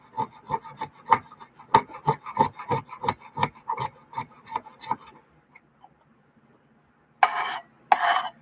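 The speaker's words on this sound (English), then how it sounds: "take a knife, scrape you out this magnesium." A knife blade scraping a magnesium fire starter block gives about a dozen close, rhythmic rasping strokes, then a pause before two short, harsher scraping bursts at the end.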